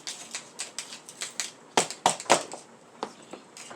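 A knife cuts a simple dessert into small bite-size pieces on a board, giving a quick run of light tapping chops, several firmer knocks in the middle, then a few sparse taps.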